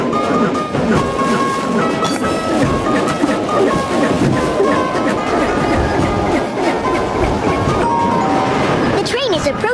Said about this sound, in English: The train is approaching Desert Slope.